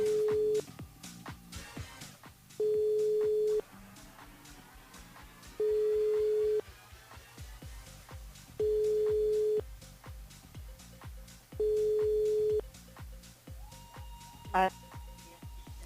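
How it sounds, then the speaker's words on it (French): A telephone ringback tone sounds during a call to a radio station listener, five evenly spaced steady beeps about a second long separated by pauses, with background music bed and brief voice at the end. "On appelle Muriel du côté de Saint-Joseph"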